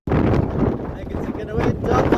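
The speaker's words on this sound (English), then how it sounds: "Really nice day, but it's very, very windy." Strong wind buffets the microphone on an exposed stretch of the South Downs Way near Beachy Head, a loud continuous roar that swells at the start and end with no break.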